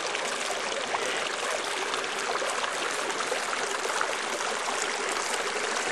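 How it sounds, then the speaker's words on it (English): A small river or stream flows in western New Mexico near the Arizona border, a steady close rush and trickle of water running continuously with no voices. "I'm standing next to a stream, well, they call it a river, in western New Mexico"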